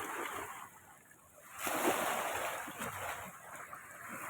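Rushing water of the Kaveri River at Erode roars steadily, swelling into a heavier crashing surge midway, like a strong river current pounding nearby.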